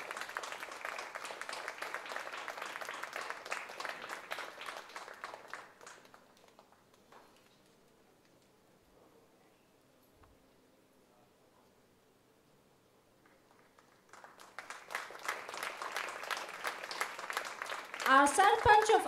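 An audience claps for MLA Joshua D'Souza at a charitable visit event, a burst of applause that fades into near silence, then a second round of clapping rises again toward the end.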